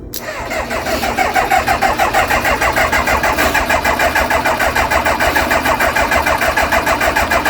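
Kawasaki ZX motorcycle, a garage find unused for years, being turned over on the starter: a steady rapid cranking churn that holds loud and even for several seconds without catching.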